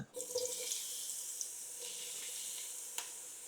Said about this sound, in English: And the oil is ready. And let's put now the eggplant inside.